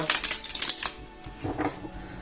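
A deck of tarot cards is shuffled close by, giving crisp, rapid riffling bursts that pause briefly and then resume more softly.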